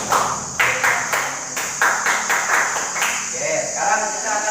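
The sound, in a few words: class doing the scout clap (tepuk pramuka)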